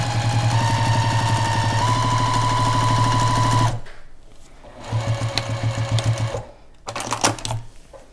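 A domestic sewing machine sews down quilt binding, running loud and steady with a low hum and rapid needle rhythm, pausing briefly and then starting again in a couple of shorter bursts.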